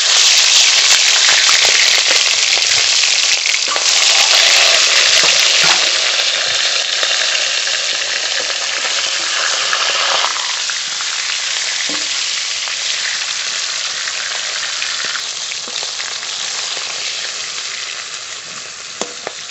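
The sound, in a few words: catla fish head frying in mustard oil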